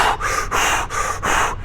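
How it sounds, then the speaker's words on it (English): Forceful rhythmic breathing: four strong, close breaths pushed in and driven out in quick succession, each a loud airy rush with short gaps between, nothing else heard. "that's fire breathing. That is pushing that in, that is driving that air out"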